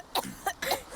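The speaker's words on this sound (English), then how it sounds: "the Ashley cough." Ashley, a character in the video game Resident Evil 4 Remake, coughs in three short, close bursts with brief gaps between them.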